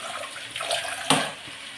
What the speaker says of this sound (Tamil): தண்ணி ஊற்றிக்கிடலாம்.